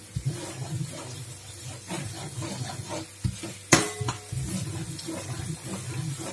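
Broccoli croquettes coated in flour frying in a pan, a steady close sizzle with occasional bubbling pops and one sharp clink of a utensil partway through.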